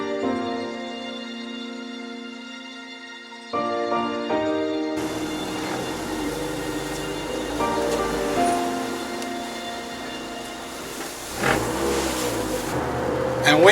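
A car lapping the Nurburgring circuit, its engine revving and accelerating up through the gears, loud and close with wind and road rumble, over a low backing track.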